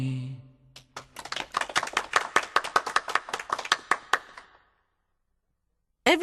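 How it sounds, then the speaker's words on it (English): A small group applauds after a song, with a burst of brisk, close hand claps that builds and then fades out into silence. "Everyone applauded when the song was finished."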